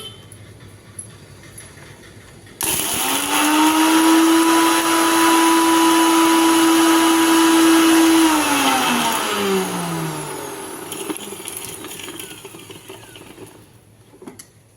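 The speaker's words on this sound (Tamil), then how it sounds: "ஒரு சின்ன ஜார் எடுத்துருக்கேன் அதை மிக்சியில் வச்சு இந்த ஜீரக மிளகும் இந்த வெந்தயத்தையும் வந்து நம்ம நல்லா பொடி பண்ணி" A mixer grinder grinds cumin, pepper and fenugreek in a small jar with a loud, high steady whine, then winds down and fades to quiet.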